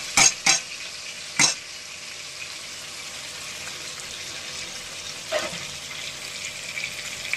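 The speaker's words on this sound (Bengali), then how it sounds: "টমেটোটাকে একটু তেলের মধ্যে ভেজে ভেজে নেব।" Tomato and spices frying in hot oil make a steady, close sizzle throughout, with a few sharp metallic clinks of a utensil against the pan near the start and a soft scrape later on.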